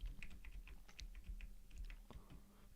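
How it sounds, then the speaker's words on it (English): Fingers tapping a computer keyboard to enter a date, a quick run of soft, close keystroke clicks at an even pace, quiet and without speech. "So I'll just type in the date."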